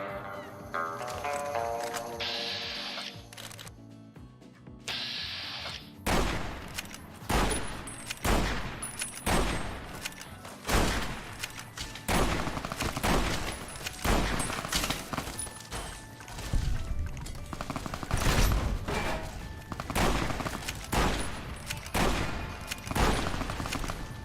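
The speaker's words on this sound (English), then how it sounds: "Who's shooting at me?" Heavy gunfire in the video game Fallout: New Vegas: a long run of loud, closely spaced shots and bursts, some rapid and sustained, with brief lulls between volleys.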